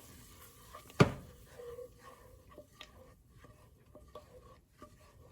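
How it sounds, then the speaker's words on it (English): A spoon scrapes and stirs turmeric and red pepper flakes into melted butter in a pan, with one sharp clink of utensil on metal, then soft intermittent scraping and faint sizzling, quiet and close. "you can add the turmeric and the red pepper flakes, and then just start to mix it all in."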